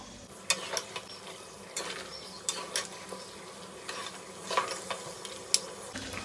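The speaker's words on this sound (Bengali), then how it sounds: "এখন পায়াগুলো দিয়ে দেবো এখন পায়াটা মশলার সাথে কষিয়ে নিব" Beef trotters (paya) being stir-fried in spice paste for nihari, a steady low sizzle with sharp, irregular scrapes and knocks of a spatula against the pan, close up.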